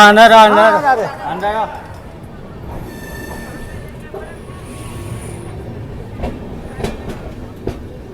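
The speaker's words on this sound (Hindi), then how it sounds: "चलिए 5 मिनट हॉल्ट के बाद डिपार्चर हो चुका है झारखंड के धनबाद जंक्शन से" The West Bengal Sampark Kranti Express pulls out of Dhanbad Junction in Jharkhand, heard from on board: a voice talks at first, then a steady rumble and clatter of rolling wheels with faint squeals and clicks.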